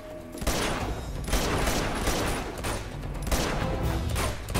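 Rapid gunfire bursts crackle through a firefight in the video game Uncharted 2 Among Thieves, at a dig site. The shots come in repeated volleys at moderate loudness.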